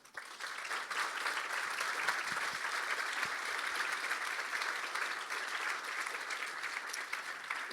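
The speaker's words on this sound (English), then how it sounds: "I think this deserves a round of applause" Sustained audience applause for a panel at a disinformation conference, many hands clapping evenly and continuously at moderate distance for several seconds.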